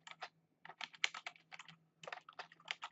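Quiet clicking keystrokes on a computer keyboard come in quick irregular bursts with brief pauses, entering a birthday month into a spreadsheet.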